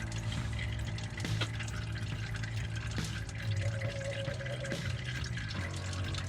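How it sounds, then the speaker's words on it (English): Used engine oil draining from a 2017 Duramax during an oil change, a steady quiet liquid trickle and dribble with faint drips, continuous and heard alone. "So I'm going to let all this oil dribble out."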